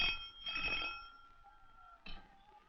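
An old telephone bell rings in two short, faint bursts in a 1963 Bollywood film scene, with a gap between the rings and no speech over them.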